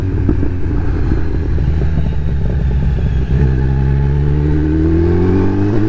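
A Kawasaki Z900 motorcycle engine drones loud and steady under the rider while cruising in third gear along country roads, with a rising pitch sweep toward the end as it pulls.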